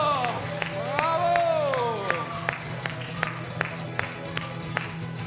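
Audience at a children's music performance claps in a steady rhythm, sharp evenly spaced claps carrying on for several seconds, with a voice briefly sounding near the start.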